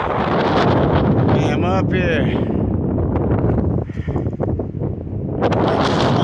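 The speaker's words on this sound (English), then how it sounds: "Windy. It's blowing in." Heavy wind on a desert hillside about 100 feet up buffets the microphone with loud, continuous roaring gusts, briefly easing before surging again; someone speaks a few words under it.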